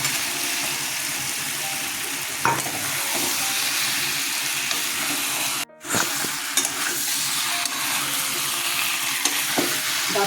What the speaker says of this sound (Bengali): আমি আমার মতো করে দিলাম গাঠি কচুগুলো ছেড়ে দিলাম